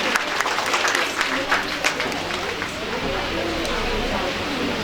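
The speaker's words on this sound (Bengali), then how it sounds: "আর একটু জোরে হাততালি দেওয়ার জন্য সবাইকে রিকোয়েস্ট করছি" An audience claps at a university prize distribution ceremony, with a burst of clapping up front that thins into a softer patter, while a voice speaks over it.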